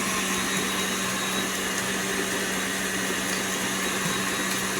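An electric mixer set to speed 5 beats eggs and sugar for a chocolate cake, giving a steady, unbroken motor whir and churning hum that holds an even loudness throughout.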